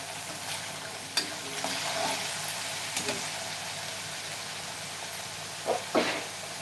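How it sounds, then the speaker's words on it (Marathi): Onion-tomato masala roasting in oil in a pan for a cauliflower and potato curry, a low continuous sizzle with a few scattered spoon scrapes and louder stirring near the end, close and moderately quiet, with no talking. "मसाला चांगला असा भाजून झालेला आहे चारही बाजूने मसाल्याला चांगलं तेल सुटलेलं आहे"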